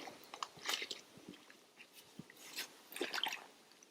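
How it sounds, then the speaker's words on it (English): A D-frame net scrapes and scoops muck from the bottom of shallow water, giving faint, intermittent wet squelches, drips and gritty crunches at close range. "So she's mucking around on the bottom, trying to get some good muck."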